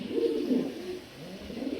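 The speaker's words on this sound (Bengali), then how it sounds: "এটা খুব সুন্দর একটা কবুতর ভাই" Pigeons of an improved breed at a farm coo close by, a few low throaty rolling calls in quick succession.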